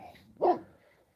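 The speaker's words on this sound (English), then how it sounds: "What are you barking at?" A single short, close dog bark that rises sharply and fades, preceded and followed by faint low background noise.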